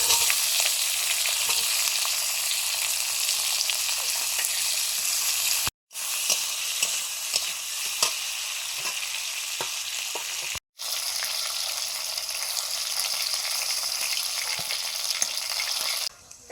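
Dried red chillies, whole cumin and chopped onion fry in hot oil with garam masala, a strong steady sizzle with light stirring taps, briefly interrupted twice by cuts.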